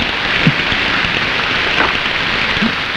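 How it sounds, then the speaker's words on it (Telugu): A steady, dense patter of unseasonal rain falls outdoors, even and continuous throughout, with a few faint knocks beneath it and no voices. "అకాల వర్షం"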